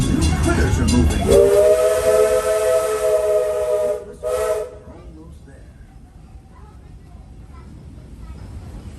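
The Big Thunder Mountain runaway train at Magic Kingdom gives a loud, sustained steam whistle blast lasting a few seconds, preceded by hissing steam and followed by a brief second toot, then quieter park ambience.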